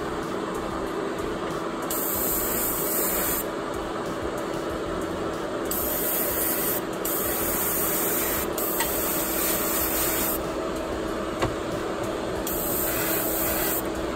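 Aerosol spray paint misted onto a Hot Wheels car body, a steady close hiss broken into several long bursts with brief pauses between passes, loud and continuous.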